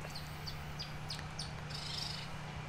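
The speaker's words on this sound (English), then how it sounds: "Listen to those birds." Birds chirp in a formal historic garden with a fountain, short bright tweets repeating every half second or so over a steady background hum, fairly distant and soft.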